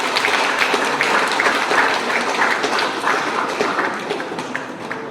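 An audience at a priest's silver jubilee celebration breaks into sustained, dense applause, many hands clapping steadily and close for several seconds before easing slightly.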